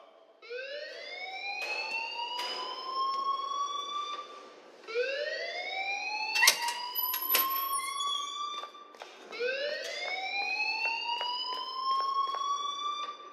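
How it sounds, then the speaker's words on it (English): A fire alarm in the Life is Strange video game wails in repeated rising sweeps, three long cycles, steady and fairly loud with faint background noise and no speech. "please turn off that alarm since that's your job"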